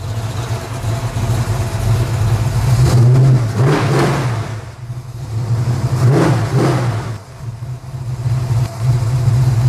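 A car engine idles loudly and close by, then is revved twice in sharp blips that swell and fall back to a rumbling idle.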